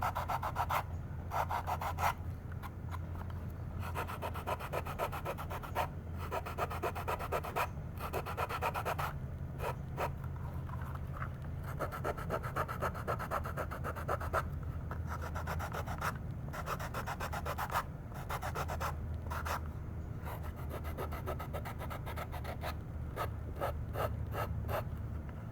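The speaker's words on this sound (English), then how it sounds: "You're going to get your sanding block and start refining it." A sanding block rubbing back and forth over a leather pouch, a steady close rasping scrape in continuous strokes with brief pauses, no talking.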